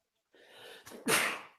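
A single close sneeze: a quick inhaled gasp followed by a sharp, forceful burst of air, in an otherwise quiet moment.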